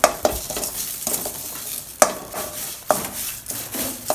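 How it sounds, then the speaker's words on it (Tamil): Curry leaves for pirandai podi fry in a pan, a soft crackling sizzle broken by repeated sharp scrapes and clinks of a spoon stirring against the metal, at a steady close rhythm. "கருவேப்பிலையை நல்லா வறுத்து எடுத்தாச்சுப்பா"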